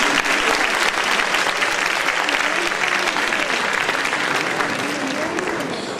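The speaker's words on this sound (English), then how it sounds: "Please give him a big applause" Applause from a school annual day audience for an award winner, a dense, loud roar of many hands clapping, steady and then tapering slightly near the end.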